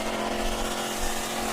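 A Dodge Challenger Hellcat street racing in Texas or Mexico roars loudly and steadily throughout, a continuous, dense engine blare with no pauses.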